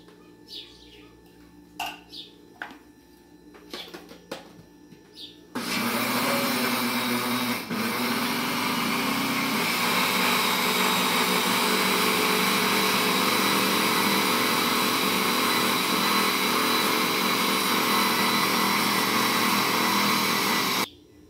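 A blender beats corn cake batter of eggs, sugar, milk and oil, starting with a few clunks and then roaring steadily and loudly for about fifteen seconds before cutting off.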